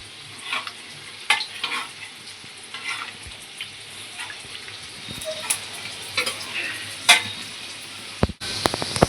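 Garlic roasts in a pan while a spoon stirs it. A steady soft sizzle sits close, punctuated by irregular scrapes and a few sharper knocks against the pan, ending with a brief clatter.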